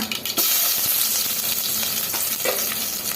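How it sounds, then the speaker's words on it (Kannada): Mustard seeds, garlic and curry leaves sizzle loudly in hot oil, a dense continuous crackle and hiss close up with stirring scrapes and popping seeds. "ಎಲ್ಲ ಸೇರಿಸಿ ಈ ಥರ ಫ್ರೈ ಮಾಡ್ಕೊಳ್ಳೋಣ"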